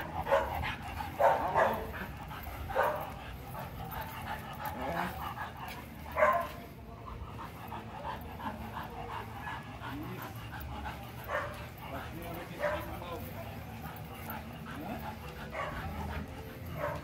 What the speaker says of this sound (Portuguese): Olha aí o nosso Scott, nosso cão de guarda no período de adaptação com pastor Augusto.